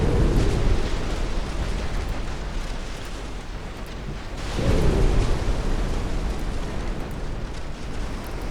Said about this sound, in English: There you go, torpedoes going out from Castore. Four torpedo hits.